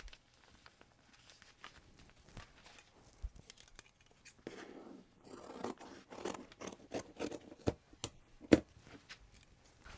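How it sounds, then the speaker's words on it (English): Scissors cutting quartered fabric around a pouch template while making a jewellery pouch, with quiet snips and rustling that build into a quick, close run of cuts in the second half, faint and alone. "Then I'm going to pin my template to the quartered fabric and cut it out."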